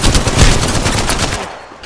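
Rapid automatic gunfire in Apex Legends, a dense, loud burst of close shots fired in quick succession for most of the moment before trailing off.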